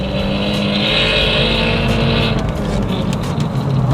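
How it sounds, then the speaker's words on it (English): A Honda Accord Euro R engine drones loudly at half throttle with a high mechanical transmission whine layered over the rumble, steady and close throughout. "The transmission so loud."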